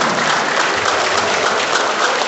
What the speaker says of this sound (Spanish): El aplauso para ellos, para esta feliz pareja.